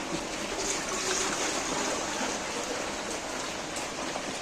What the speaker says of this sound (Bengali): উনুনে একটা ডেস্কি বসিয়েছি আর ডেস্কিতে আমি একটু জলও দিয়ে দিচ্ছি